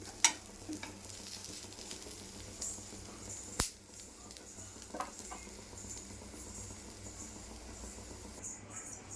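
Onions frying lightly in a pan, a soft continuous sizzle with occasional faint stirring scrapes and one sharp clink partway through, fairly quiet throughout.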